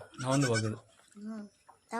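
A young goat kid on a goat farm bleats: a long, wavering cry close by, then a shorter, softer bleat and the start of another after a brief pause.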